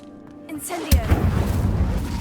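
A fire spell cast in Hogwarts Legacy bursts out as a sudden whooshing blast of flame after a brief sparkling windup, then a roaring crackle lingers and slowly fades.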